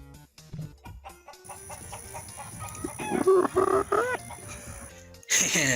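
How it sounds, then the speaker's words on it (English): A chicken clucks as it approaches, a run of short, rising clucks and squawky calls growing louder toward the middle, with faint rustling and background noise, followed by a sudden louder burst at the end. "See, look there. The chicken is approaching."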